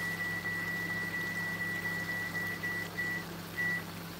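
Microwave oven steaming rice: a steady low electrical hum with a faint high whine running through, constant and close, heard alone without voices.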